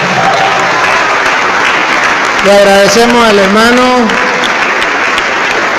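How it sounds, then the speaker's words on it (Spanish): Loud, sustained audience applause fills a church gathering from start to finish, with a voice speaking over the clapping for a couple of seconds in the middle. "Aplauso fuerte,"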